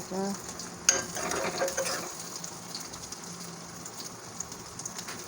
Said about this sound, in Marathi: मी ह्या ठिकाणी लसूण ॲड करून घेते आहे